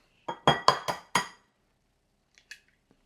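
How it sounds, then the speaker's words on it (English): Eggs are tapped sharply on a bowl rim and cracked into a bowl in a kitchen. Five crisp knocks come in quick succession, followed by a couple of faint clicks after a pause, with no voices. "Grab an egg, just like so. Crack it in."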